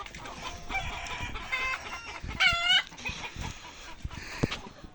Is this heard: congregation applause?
no